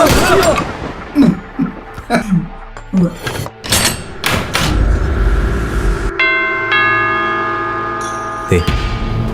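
A bell rings out with a sustained, shimmering tone that slowly fades, following a stretch of voices and sharp knocks and clatter.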